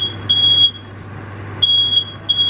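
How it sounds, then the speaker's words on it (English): A kitchen smoke alarm sounds, set off by burnt tea, with loud, piercing high-pitched electronic beeps in long bursts separated by short gaps, over a low steady hum. "the smoke alarm went"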